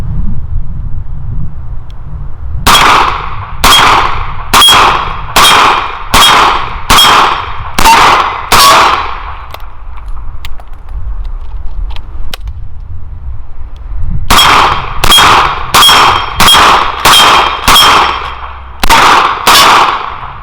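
A Smith & Wesson 929 9mm eight-shot revolver fires two strings of eight rounds at steel plates on a brisk fall range. Each loud shot is paired with a ringing clang, evenly spaced, with a quiet pause between the strings.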